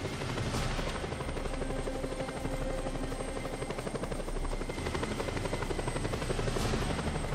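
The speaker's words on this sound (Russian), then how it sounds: "Вертолет." Helicopter in the Just Cause 2 video game, a loud continuous rotor chop with a steady engine whine, close and unbroken throughout with no talk over it.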